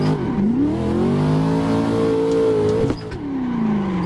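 Corvette engine in Assetto Corsa, held at high revs while drifting in third gear, a loud steady wail that dips and climbs, briefly cuts near three seconds, then resumes falling in pitch.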